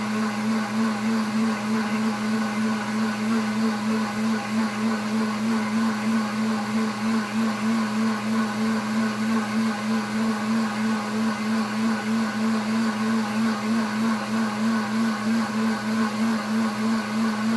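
A kitchen blender churns steadily at close range, a loud continuous motor whir with a strong steady hum; no clear stops are evident across the stretch, and no one speaks.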